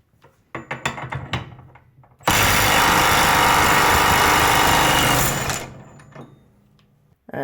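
Milwaukee stubby cordless impact wrench loosening a stuck bolt, a loud continuous rattling hammer burst of about three seconds, preceded and followed by clanking handling thumps.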